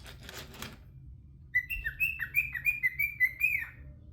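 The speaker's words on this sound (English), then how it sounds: "that's my bird right beside me, going off" A pet bird sings close by, a rapid run of bright whistled chirps in a quick series after a brief rustle, loud and clear with no talking.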